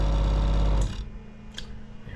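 A steady mechanical hum of a water pressure tank pump motor runs briefly, then cuts off abruptly, leaving a quieter low drone.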